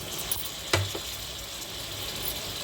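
Country chicken meat dropped into a pan of fried onions with ginger-garlic paste gives a short sizzle and a clink near the start, then a steady low frying hiss continues, with no talk.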